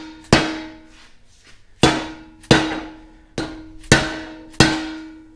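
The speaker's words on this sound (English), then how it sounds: "take my dead blow hammer" A dead blow hammer strikes a metal part to seat it in a fabrication shop, six heavy ringing blows spaced irregularly about half a second to a second apart, each decaying with a metallic hum.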